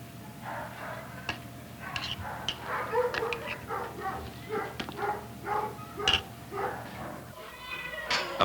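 Dogs in an animal shelter bark and whimper, with repeated close yelps and cries overlapping in an irregular, restless rhythm.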